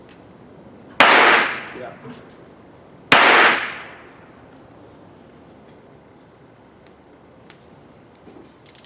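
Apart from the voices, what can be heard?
Beretta handgun shots at shooting range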